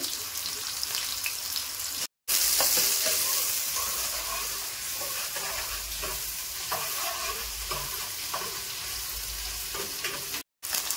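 Onions and green chillies frying in hot oil in a home kitchen, a continuous close sizzle with stirring scrapes and a few brief cuts in the sound.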